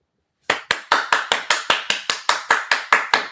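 Sharp, evenly spaced hand claps, about fifteen in a steady rhythm, loud and close after a brief silence with no talking.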